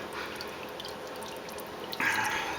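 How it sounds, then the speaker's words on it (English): Transmission fluid draining from the opened drain plug of a 2007 Nissan Murano's CVT, a steady close trickle and drip that swells into a louder, fuller stream near the end. "I'm just going to let this CVT fluid drain out"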